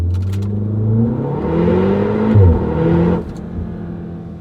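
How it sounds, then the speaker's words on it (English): A 2015 MK7 VW Golf R fitted with an Invidia Q300 catback exhaust at wide open throttle, heard from inside the cabin with the windows closed: a loud, steady engine drone that climbs in pitch through the gears, with no talking. "Next up is wide open throttle from inside the car, windows closed, and this is exactly what it sounds like."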